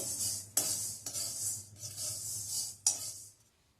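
Roasted fenugreek seeds being transferred from a pan into a bowl, with a few sharp scrapes of a spoon or spatula rising out of a soft, steady rustle of the dry seeds, heard close up with no talking.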